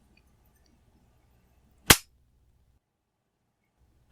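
A single sharp metallic click sounds as the trigger of a Mannlicher 1888/90 rifle is dry-fired, close and crisp against a quiet room with faint background hum.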